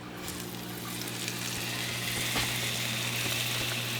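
Crappie fillets in fish fry coating sizzle steadily in a hot pan, a dense continuous crackle at moderate level with occasional louder pops and a low electrical hum underneath.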